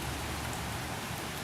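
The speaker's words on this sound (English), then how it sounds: "it's almost stopped raining now" Outdoor rain that is easing off falls steadily, an even, close hiss of drops with a soft low rumble beneath and no speech.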